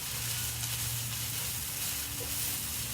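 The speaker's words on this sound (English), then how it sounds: "So I have 1 tablespoon of minced garlic, and I'm going to stir that really well in here." Minced garlic sizzles in a potato hash as it is stirred, a steady, close frying hiss that goes on without a break.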